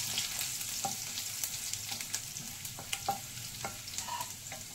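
Chopped garlic frying in hot oil for a potato curry, giving a steady close sizzle with scattered crackles and pops and a few soft stirring scrapes throughout.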